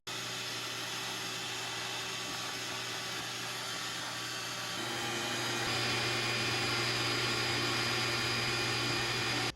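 A vacuum cleaner drones steadily while a boiler heat exchanger is brushed clean, a faint, constant whine that swells slightly partway through.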